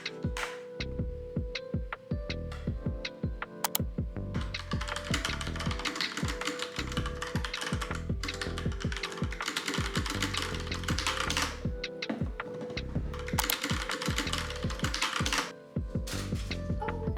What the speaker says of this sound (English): the pop keys as more of a hobby keyboard, something that's just more fun when Andrew's not in the room